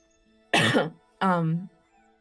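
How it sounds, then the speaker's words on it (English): Two short bursts, a brief throaty cough followed by a more voiced, rasping throat sound, close and fairly loud against silence. "She kind of coughs off to the side a little bit."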